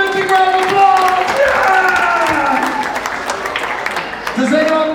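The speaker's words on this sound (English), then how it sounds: "give them a big round of applause" Audience at a kids' magic show claps and cheers loudly after a trick, with children's excited voices and whoops ringing over the clapping, close and lively.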